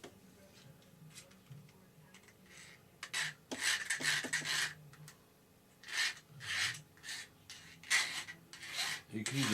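Hand file rasping off cut wire on a Fokker D.VII ARF radio-control model plane build, a series of short scraping strokes in irregular bursts, close and fairly quiet, with a few small taps between.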